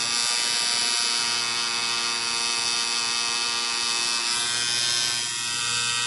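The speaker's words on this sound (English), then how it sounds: "This is being done with a 7-needle outliner and a 4-needle flat shader." Electric tattoo machine fitted with a 7-needle outliner and a 4-needle flat shader, giving a steady close buzzing hum throughout with a high whine, and no talk.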